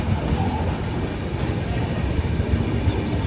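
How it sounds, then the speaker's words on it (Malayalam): The Uttar Sampark Kranti Express pulls out of a station on a Delhi to Kashmir route, a steady low rumble and rolling rail noise that stays constant and fairly near throughout, with no talk. "ഇതാ ഉത്തർ സമ്പർക്രാന്തി എക്സ്പ്രസ് ഇവിടുന്ന് എടുത്തിട്ട് പോവുകയാണ്"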